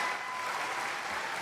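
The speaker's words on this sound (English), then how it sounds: "Round of applause for that." Brief, steady applause from a small group on a podcast, fairly soft and even throughout with no talking over it.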